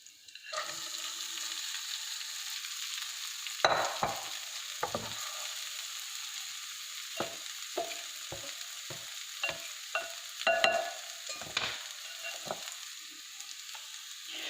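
Lemon poha being tipped into a hot pan and stirred, giving a steady soft sizzle with repeated scraping knocks of the spoon in uneven rhythm, close and fairly quiet, with no talking.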